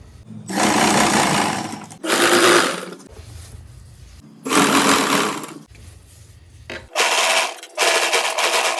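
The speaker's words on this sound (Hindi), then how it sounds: "वापस से स्ट्रेच करेंगे, सुई को नीचे करेंगे और यहाँ पे स्ट्रेच कर कर ही हमें सिलाई लगानी है।" A sewing machine stitching a saree belt runs in several loud, close bursts of fast, even whirring, with short quiet pauses between runs.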